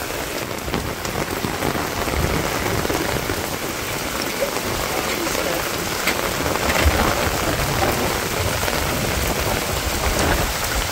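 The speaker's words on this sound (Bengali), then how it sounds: "আপনারা দেখেন গো কি পরিমাণে বৃষ্টি নামছে।" Heavy monsoon rain pours steadily on a Bangladeshi village, a dense, continuous hiss of drops drumming on surfaces with no break, loud and close throughout.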